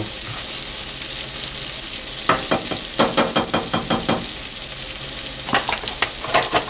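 Oil heating in a frying pan gives a loud, continuous crackling sizzle, broken by a few bursts of sharper spattering pops, with no talking.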